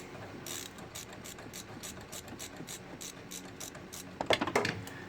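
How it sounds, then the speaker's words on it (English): A ratchet wrench with a swivel head turns a bolt on a Subaru boxer engine while the right valve cover gasket is replaced, giving faint, rapid clicking through most of the stretch and a louder close burst of ratcheting near the end. "the swivel head, it makes easy work of it and allows me to set the ratchet handle at its own pivot"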